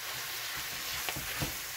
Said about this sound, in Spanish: aquí estamos meneando